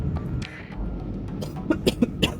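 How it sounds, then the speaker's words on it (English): A man coughs several times in quick, close bursts during a Starsector gaming session, the hacking growing sharper toward the end over faint background sound. "I'm really sorry about the coughing, guys"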